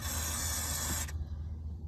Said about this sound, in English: So first thing I usually do is just spray them suckers down.